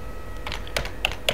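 A handful of computer keyboard keys being pressed to enter a password on a server, sparse clicks at an uneven pace, close and fairly soft.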